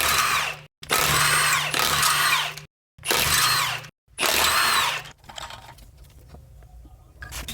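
An impact gun spins lug nuts off an Audi RS3 wheel in four loud close bursts of high whirring, each a second or so long with brief gaps, followed by quiet shop room tone.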